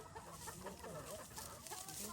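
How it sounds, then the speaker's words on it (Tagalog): Faint, continuous clucking from several five-month-old pullets, soft and overlapping with a background hiss. "mga pullets po yan 5 months"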